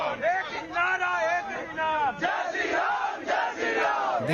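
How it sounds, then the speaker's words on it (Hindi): A crowd of many voices chants anti-reservation slogans in rhythmic, shouted waves, a loud collective protest chant repeating over several seconds. "इस वीडियो में आरक्षण मुर्दाबाद के नारे लगाए जा रहे हैं"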